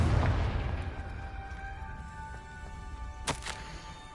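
A Confringo fire spell explodes in Hogwarts Legacy, a single loud booming blast at the start that decays into a fading rumble, followed by a brief sharp crackle.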